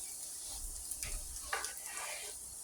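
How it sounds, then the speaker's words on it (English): Onions and peppers hitting a pan of frying potatoes give a soft, quiet sizzle with a couple of brief crackling bursts as they land, the low hiss continuing throughout. "we're going to add the onions and the peppers"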